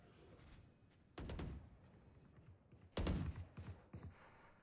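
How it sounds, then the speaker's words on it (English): Two loud bursts of video game gunfire crack out in Valorant, a volley early and another heavier one later, with scattered fainter shots trailing after over quiet background. "Gunshots all around, but it's just to really show presence"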